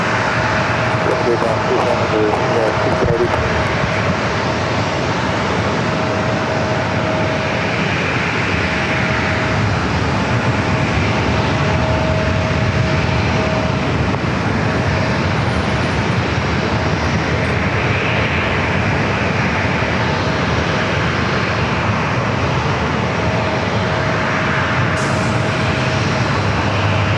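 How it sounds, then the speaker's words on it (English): A Boeing 737 taking off on runway 27 at San Diego airport, a loud continuous jet engine roar sustained throughout, broad and steady with a faint tonal whine on top. "737 headed over here for a takeoff on 27"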